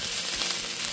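Eggplant pieces frying in a pan, golden on both sides, give a steady, close, even sizzle that runs unbroken for the whole moment with no voices.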